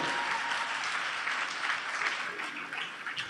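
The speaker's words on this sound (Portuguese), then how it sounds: "Você pode aplaudir o Senhor?" Worshippers at a Sunday church service applaud the Lord together, a steady, full round of clapping from a roomful of people that stays even and fairly loud for its whole length.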